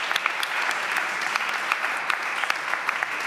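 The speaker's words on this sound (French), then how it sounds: "Vous pouvez vraiment les applaudir." An event audience applauds the sound, lighting and video technical teams with steady, dense clapping, a few louder claps standing out close by, and no talk over it.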